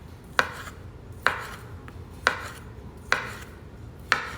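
A knife chops bacon on a cutting board, five sharp, evenly spaced strikes about a second apart, close and clear with no talking.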